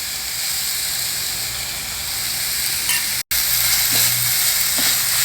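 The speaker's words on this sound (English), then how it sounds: "Lightly stir fry it." Poha ingredients stir-fried in a pan, a steady loud sizzle and hiss of frying with faint stirring scrapes, briefly cut off midway before the sizzling resumes.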